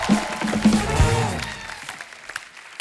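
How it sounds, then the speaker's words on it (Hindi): Studio audience on a Hindi comedy talk show claps for a veteran comedy actor, a short burst of applause under a host's voice that fades away toward the end. "जोरदार तालियां टीकू सर के लिए।"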